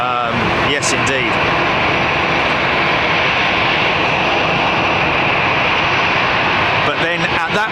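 A departing airliner at London Heathrow Airport, runway 27 right, makes a loud, sustained broadband jet roar that barely changes in level, with brief voices near the start and end.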